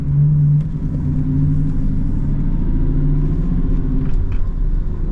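A New Edge Ford Mustang GT V8 rumbles steadily while driving, its deep engine drone loud and close with slight pitch shifts as the revs hold, no voices over it.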